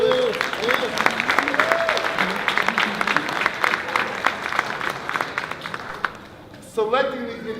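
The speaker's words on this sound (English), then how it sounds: "a round of applause again for Josiah" Live audience applauding at a Sankofa event, a dense wash of clapping for several seconds that tapers off, followed by a brief pause and a voice speaking.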